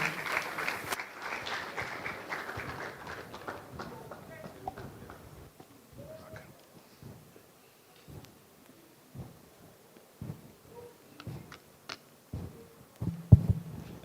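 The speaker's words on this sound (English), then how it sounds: "Please let's continue clapping until he gets up here." Applause welcomes a speaker to the stage at a software testing event, a dense burst of clapping at first that thins and fades over several seconds, after which scattered sounds and talking carry on.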